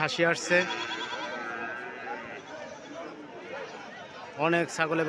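Goats bleat loudly and close by at the start and again near the end, over a murmur of crowd chatter at the busy Sonapur livestock market before Eid al-Adha.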